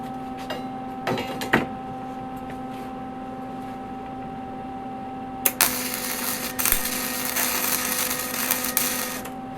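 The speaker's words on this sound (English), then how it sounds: "Fire it up, see if it actually welds before I sit there and spend all this time cleaning it up." An old, long-neglected 30-year-old Lincoln MIG welder fires up and welds in loud, broadband crackling bursts over a steady electrical hum, with a few short starts early and a sustained stretch of sputtering later.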